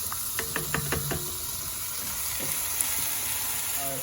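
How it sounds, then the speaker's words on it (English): Noodles being stirred in a cooking pot, with a quick run of five or six close knocks and scrapes early on over a steady background hiss, then a few softer taps. "Make sure you stir your noodles."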